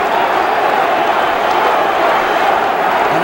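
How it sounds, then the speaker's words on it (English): Dense, steady roar of a large boxing crowd cheering on ex-champion Floyd Patterson during a 10-round heavyweight bout against Oscar Bonavena in 1972, a continuous wash of voices with no distinct breaks. "And the crowd is trying to urge Patterson on."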